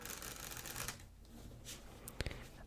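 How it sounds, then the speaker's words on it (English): A deck of playing cards is shuffled up close in a quiet room, with a soft ruffling riffle, a pause, then quick crisp snaps of cards. "with this deck, which I'm going to shuffle,"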